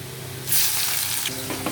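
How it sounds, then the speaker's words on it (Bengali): Chopped onions drop into hot oil in a pan for a chicken and potato curry, bursting into a sudden loud sizzle that settles into steady frying with a few stirring scrapes, close by and without talk. "এই যে কেটে রাখা পেঁয়াজগুলো আমি দিয়ে দেবো এর মধ্যে"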